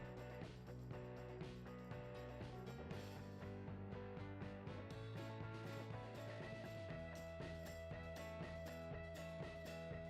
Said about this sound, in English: You will use this to tighten the rear bolt.